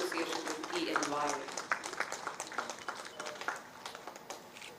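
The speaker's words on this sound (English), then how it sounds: "Let's have a huge round of applause, ladies and gentlemen" A crowd applauds at a conference on aero-engine manufacturing technologies, with scattered claps continuing throughout as a voice speaks over them early on before the clapping thins out.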